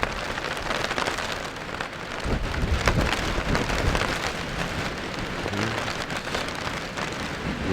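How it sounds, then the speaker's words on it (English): Rain falls hard during a windy thunderstorm at a backcountry campsite in grizzly territory, a close, steady wash of drops pattering on a surface, with gusty swells and a faint low rumble beneath. "Raining."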